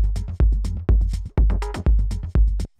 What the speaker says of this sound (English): As you see, the kick here sounds like this.